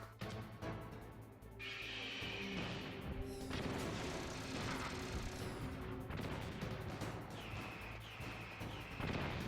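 Metal Gear Rex unleashes a barrage of missiles in the video game Metal Gear Solid, with loud continuous blasts, crashes and booming impacts layered over a rumbling low-end roar for the whole stretch.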